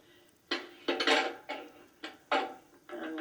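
A pie mixture is scraped and pressed into a 9-inch pie plate, giving a series of short scraping and clinking bursts of utensil against dish at an uneven rhythm, close and fairly quiet.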